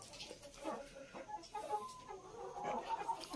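Indio Gigante chickens clucking steadily at close range, with overlapping soft clucks and a few higher calls from the flock.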